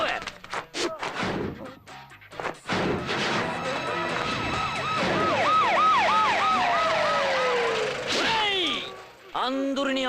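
A wailing ambulance siren rises and falls over several seconds in a busy comedy-film street scene, loud and close, with a steady tone sliding down near the end, mixed with crashes and clattering noises.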